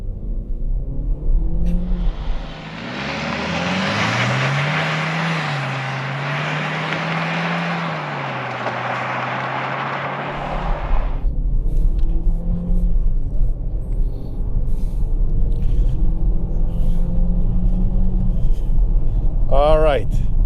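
Chevrolet Equinox RS with a 1.5-liter turbo engine accelerating hard from 0 to 100 km/h: a steady engine drone with rising pitch through the gears, loud inside the cabin and then dropping to a quieter road rumble, with a voice talking near the end.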